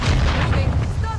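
A mine detonates in Call of Duty: Modern Warfare II, giving one heavy, booming game explosion that fills the short moment with deep rumble.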